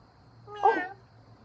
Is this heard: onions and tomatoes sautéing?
no